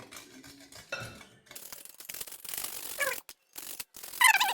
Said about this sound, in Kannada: ಡ್ರೈ ಜಿಂಜರು ತುರಿದು ಹಾಕ್ತಾಯಿದ್ದೀನಿ ಒಂಚೂರು